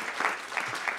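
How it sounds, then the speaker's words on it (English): An audience at a public library author event claps steadily, a dense even patter of many hands that holds for the whole moment. "Shall we applaud that?"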